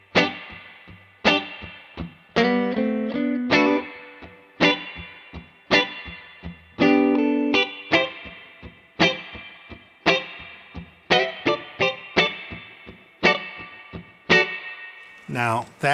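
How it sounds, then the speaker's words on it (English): Electric guitar riff played with switched pickups for a cutting, driving tone, sharp percussive picked notes and chords in a steady rhythm through a distorted effects chain, close and loud with no talking. "for 4 I played a riff, and I switched pickups to do it to give it even more propulsion and change the tone a little bit"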